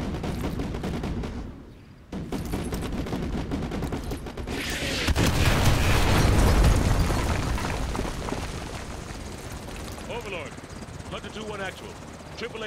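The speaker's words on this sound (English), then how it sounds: "call artillery on the enemy vehicle." Artillery fire and explosions in Modern Warfare 2 Remastered: a dense, sustained roar of blasts and rumbling swells through the middle, under and around radio-style voices and game noise.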